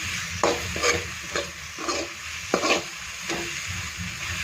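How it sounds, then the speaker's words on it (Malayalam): Beef vindaloo masala sautéing in oil in a pan, with a continuous soft sizzle broken by about six distinct spoon scrapes and stirs at uneven intervals, close up and without voices. "ഇനി ഇതൊന്ന് നന്നായിട്ട് വഴറ്റിയെടുക്കണേ എണ്ണ നന്നായിട്ട് തെളിഞ്ഞ് വരുന്നോടും വരെ"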